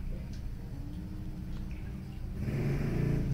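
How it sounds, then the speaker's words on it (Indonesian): A motorbike passes outside, its engine rising from a low drone into a louder, rougher rumble heard through the room. "Maaf ada suara motor ya, nggak apa-apa ya."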